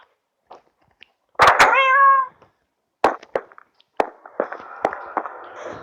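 A pet cat meows once, loud and close, amid sharp clicks and thumps from a game world, followed by scattered short tonal blips and knocks.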